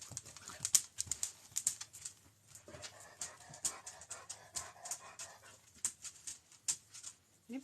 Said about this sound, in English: Anybody want a dog?